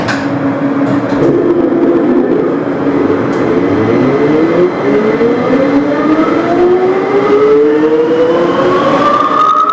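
A metro train running under old-style Siemens automatic control holds a steady set speed, its motor whine rising smoothly in pitch over rumbling wheels on rails, loud and close with no talk.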